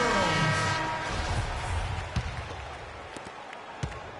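Crowd roar and scattered applause from the arena in an NBA basketball video game on PS4 featuring the Knicks and Cavaliers, a steady broadband wash with a brief horn-like tone at the start and a few sharp thuds.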